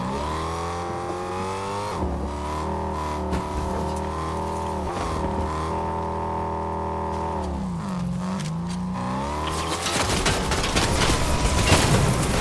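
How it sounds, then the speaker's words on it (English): In Fortnite, a car's engine revs hard with tires squealing as it drives, then a burst of rapid gunfire and loud shooting erupts near the end, with no talking. "I decide to try and run them over and then get out of the car and start shooting them"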